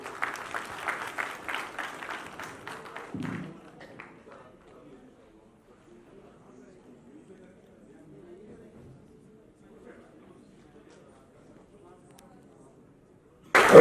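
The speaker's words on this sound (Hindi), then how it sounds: "आप लोगों के इस जज्बे के लिए, एकता के लिए जोरदार तालियां हो जाएं" An auditorium audience at a national youth awards festival bursts into dense applause for about three seconds, then it fades to a low murmur of near-silence before a sharp loud burst at the very end.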